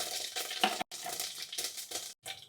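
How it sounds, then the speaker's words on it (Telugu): Half a spoon of fenugreek seeds dropped into heated oil for egg pulusu, a close, bright sizzle and crackle in short bursts broken by brief silent gaps. "ఆయిల్ అయితే హీట్ అయిందండి ఒక హాఫ్ స్పూన్ మెంతులు వేసుకుందాం"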